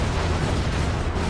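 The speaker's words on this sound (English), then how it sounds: "With plenty explosions." Explosions go off in the Crackdown 2 multiplayer action game, a dense, continuous roar of overlapping blasts and booms that stays loud and close throughout.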